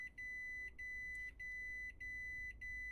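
Repeated electronic alarm clock beeps in a video game, short bright bursts sounding in a steady rhythm at moderate volume over a low background hum.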